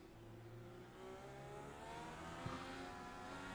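A race car in a racing video game droning past on the track, a steady engine whine with shifting tones that swells slightly as it draws alongside, alone without talk.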